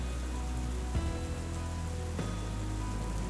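Rain falls at night as a steady, even hiss of drops on surfaces, continuous and moderately faint, with no voices.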